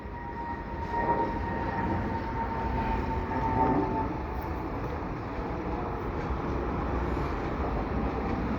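A long CPKC eastbound intermodal freight train creeps slowly past the Dorval ramps in the evening, giving a steady, continuous rumble with faint squeals and a couple of slight swells, no talk.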